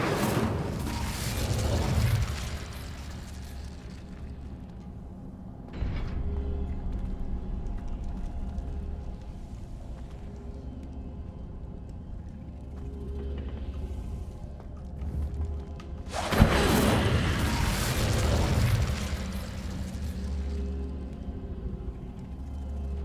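In the Hogwarts Legacy video game, the Incendio fire spell bursts out with loud whooshing, roaring blasts at the start and again later, while a low rumble continues between them.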